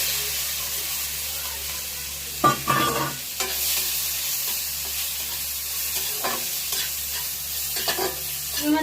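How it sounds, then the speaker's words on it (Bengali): Shrimp fry in mustard oil in a wok with a steady sizzle and hiss, broken by several sharp scraping stirs of the spatula, close and fairly loud, with no talking. "প্রথমে আমি চিংড়ি মাছগুলো ভেজে নেব।"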